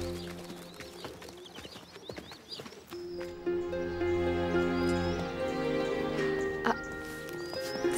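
A horse's hooves clip-clop during a ride in a scene from the series Minmini, a run of irregular knocks early on that give way to a louder sustained musical bed, with no talk.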